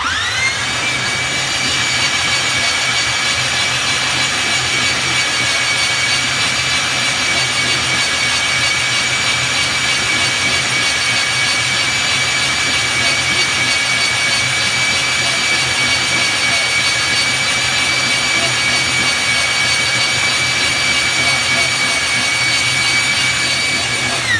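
A homemade powered soil mix mixer runs continuously, producing a loud, steady mechanical roar with a high whine layered over it, unchanging from start to finish.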